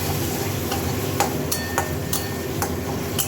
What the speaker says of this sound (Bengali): গ্যাস কমিয়ে আস্তে আস্তে নাড়বো।